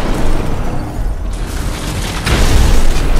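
An explosion in the video game Batman Arkham Asylum: a loud, dense, rumbling blast that fills the clip, with a second heavier surge of low-end roar and debris partway through.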